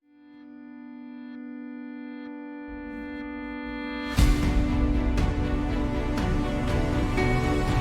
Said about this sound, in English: the original kind of like guitar sound played backwards with a bunch of reverb on it